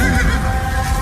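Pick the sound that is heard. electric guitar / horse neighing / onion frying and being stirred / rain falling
horse neighing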